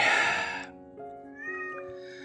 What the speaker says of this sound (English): Literally every time I start recording, he starts meowing.